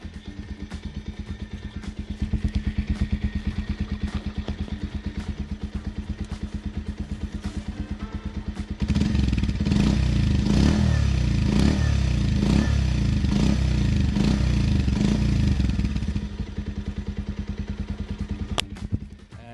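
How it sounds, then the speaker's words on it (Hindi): A Bajaj Pulsar 125 motorcycle engine idling loudly, recorded up close at the silencer, then revved hard for several seconds with a deep roaring exhaust before settling back to a rough idle. "माइक को मैं रखने वाला हूं अभी साइलेंसर के पास एंड मैं आपको रेव करके दिखाऊंगा कि हाउ इट साउंड्स।"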